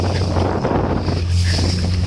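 Strong wind buffeting the microphone over the churn and slap of rough sea water around a small boat taking on water off Antalya, continuous and loud.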